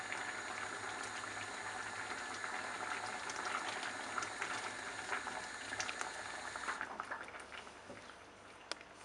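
A pot of moong dal and cauliflower lentil soup simmers on low heat with a steady, close, bubbling hiss and small pops throughout, and the sound softens slightly near the end.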